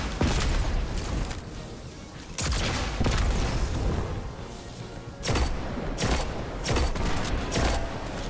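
Rocket launch and gunfire aimed at a boss in the video game Destiny, a dense loud barrage with several sharp booming impacts spaced a second or two apart.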